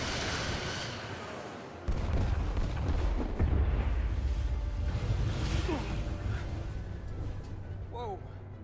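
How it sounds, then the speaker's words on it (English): Starship firing torpedoes in the Star Trek Resurgence video game, a deep booming launch that swells into a sustained rumbling roar, with a voice heard over the effects. "Firing torpedoes."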